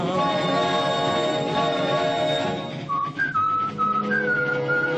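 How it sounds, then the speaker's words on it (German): A person whistles a melodic tune, clear and close, with sustained held notes and pitch steps, heard on its own over a steady background of other tones. "Pardon, pfeifen Sie weiter"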